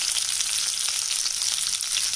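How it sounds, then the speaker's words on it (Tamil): Sliced big onions go into hot oil in a pan and fry with a steady, bright, close sizzle that holds evenly from start to finish. "இப்போ நம்ம நறுக்கி வச்ச பெரிய வெங்காயம் சேர்த்துடலாங்க."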